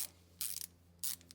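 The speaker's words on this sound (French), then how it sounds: "c'est plus facile avec le cliquet" A ratchet wrench with an 8 mm socket loosens the motor bolts of a washing machine during a bearing replacement, two short, quiet bursts of close clicking separated by a brief pause.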